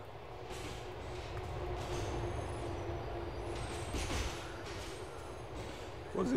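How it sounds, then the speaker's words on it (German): A train rolls past in the video game GTA IV, a steady loud rumble of wheels and carriages filling the whole span with a faint high squeal above it. "Vorsicht, Zug!"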